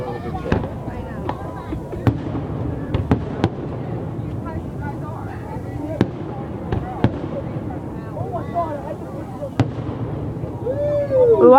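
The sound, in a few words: loud fireworks grand finale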